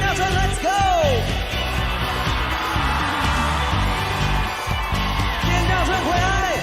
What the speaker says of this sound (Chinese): 我们就要听到尖叫声，尖叫声